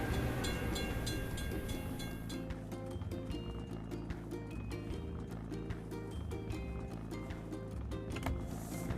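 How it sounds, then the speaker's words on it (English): A train rolls steadily past a closed crossing gate in a truck video game, its continuous rumble and rhythmic wheel clatter loud and unbroken, with game music tones layered over it. "We have to wait for the train to pass."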